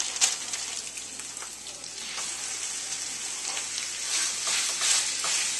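Ground beef sizzles steadily in a hot pan, a constant crackling hiss at close range with no talking.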